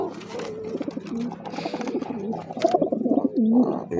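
Domestic pigeons and their chicks coo close by in soft, repeated throaty rolls that overlap and swell toward the end, with no talking over them.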